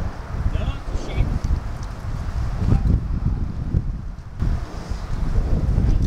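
Heavy wind buffets and rumbles against the microphone throughout on a fishing pier at Mount Pleasant, with a low roaring gusty noise and faint water sounds beneath.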